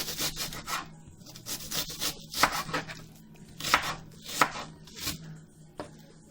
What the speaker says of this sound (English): chop as finely or as coarsely as you like